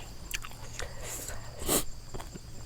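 Crisp biting and chewing of crispy fried pork belly eaten with Thai papaya salad and fermented rice noodles, several close crunches with one loud crackling bite near the end and wet chewing between.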